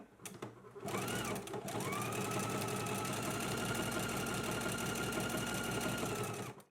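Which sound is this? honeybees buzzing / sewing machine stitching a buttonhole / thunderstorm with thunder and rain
sewing machine stitching a buttonhole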